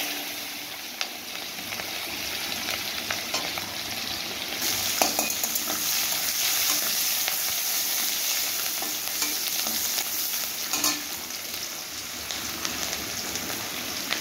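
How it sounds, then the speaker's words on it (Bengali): Chopped onion frying in hot oil with black cumin and dried chilies for a taro stolon dish, a steady close sizzle with scraping stir strokes throughout, no talk. "এবারে আমি পেঁয়াজ কুচি দিয়ে দেবো।"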